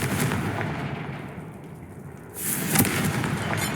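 A Confringo blast spell explodes in Hogwarts Legacy, a loud burst near the end following a sustained rumbling, crackling game soundscape, with no talking.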